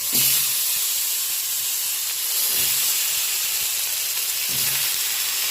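Long-cut potato slices fry in hot oil tempered with whole cumin, a dried chilli and bay leaf, giving a loud, continuous sizzling hiss with a few faint stirring knocks.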